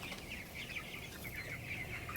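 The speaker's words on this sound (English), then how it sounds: "Today, we're moving 200 meat chickens out onto pasture for the first time" Young meat chickens on a farm, a flock of about 200 being moved out to pasture, peep and cluck faintly in a continuous overlapping chorus, with no talking.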